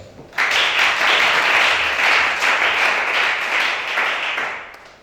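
A church congregation bursts into applause in acclamation during a worship service in Gabon, dense sustained clapping starting abruptly and fading slightly toward the end.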